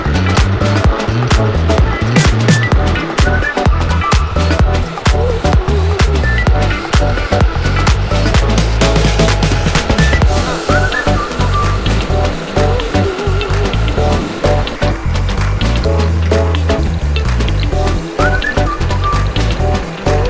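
Electric skateboard, a Lycaon Swift on 90mm wheels, riding along a road: a loud, continuous rolling roar of wheels on asphalt with wind buffeting and small bumps throughout, steady and close.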